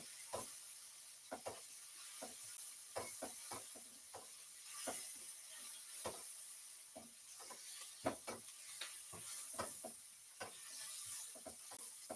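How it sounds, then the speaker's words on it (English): Faint sizzling of tomatoes and vegetables stir frying in a pan, broken by soft scattered clacks and scrapes of a spatula over a steady hiss. "So let's stir fry this."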